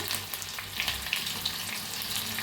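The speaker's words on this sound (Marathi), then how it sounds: "मस्त बसली आपली फोडणी" A phodni of mustard seeds, cumin, chopped garlic, green chilli, curry leaves and asafoetida sizzles in hot oil just after the gas is turned off. The frying crackle is close, dense and continuous, with scattered pops, and no voices are heard.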